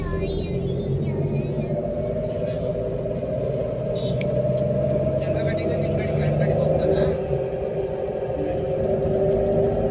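A two-wheeler ridden on a road, its engine hum and steady road rumble continuous and close throughout, with wind noise over it and no talk.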